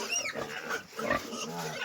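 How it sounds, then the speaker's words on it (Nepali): Piglets jostle to suckle milk from their sow, producing a busy mix of high squeals and short grunts up close, with a human voice faintly underneath. "हेर्नु होला है हाम्रो सुँगुरको पाठाहरू दुध खानलाई आमासँग कोसिस गर्दैछन्"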